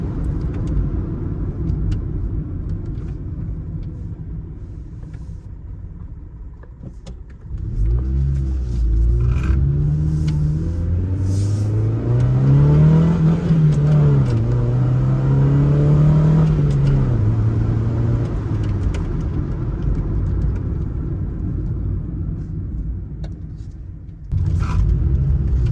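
A Honda Civic's engine revs up hard through a second-gear pull, a loud, rising drone with a swelling pitch that follows steady engine rumble, with no talk over it.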